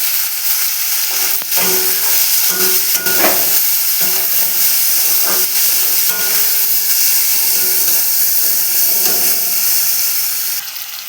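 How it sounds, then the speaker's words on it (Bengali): Chopped tomatoes frying with already browned onions in hot oil while being stirred, a loud steady sizzle and hiss with intermittent scraping strokes of the spatula, close and continuous, no talk. "এবার আমি টমেটো কুচিগুলো দিয়ে দেবো, দিয়ে ভালো করে টমেটোটা নাড়তে থাকবো।"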